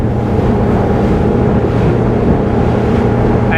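A RYCK 280, a German day boat, pushes through waves on a test drive; a steady engine drone blends with rushing water and wind buffeting the microphone, continuous and close.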